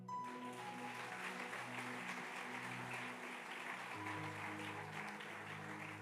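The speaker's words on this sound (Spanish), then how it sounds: "Le da el aplauso." Church congregation applauding steadily throughout, a dense, sustained wash of clapping with organ or keyboard tones held underneath.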